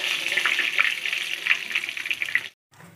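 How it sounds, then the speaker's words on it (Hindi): Puris deep-frying in hot oil, a dense, close crackling sizzle with a bright bubbling texture that holds steady, then cuts out briefly before resuming faintly. "पूरियों को फ्राई करते हुए ज़्यादा टाइम नहीं लगता, अगर आपका ऑयल गर्म है तो 1 से 2 मिनट में ये फ्राई हो जाती है"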